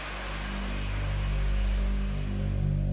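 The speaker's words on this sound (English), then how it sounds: "On LHA-class amphibious assault ships, the F-35B employs short takeoff and vertical landing" Jet engine roar of an F-35B stealth fighter during a short takeoff from an LHA-class amphibious assault ship, a loud, steady, deep rumble with broadband hiss that swells gradually and holds throughout.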